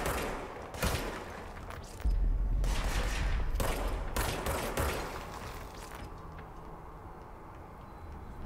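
Enemy gunfire in the video game Control: several loud bursts of shooting and impacts in quick succession, then a quieter low rumbling tail with no speech.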